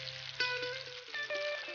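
A spoon stirring onion-tomato curry gravy in a pan, soft repeated scraping taps over a low sizzle, close and faint.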